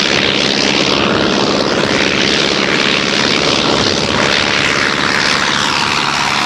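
Naval Aircraft Factory N3N biplane with a metal fuselage and 230-horsepower Wright engine, its propeller engine droning loud and steady throughout with no voices.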